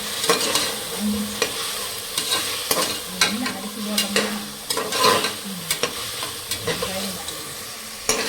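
Chilies stirred and fried in a pan for a home-cooked Tamil rice-and-lentil meal, with a steady sizzle broken by repeated scraping and clanking strokes of the spoon against the pan at close range, and no talking.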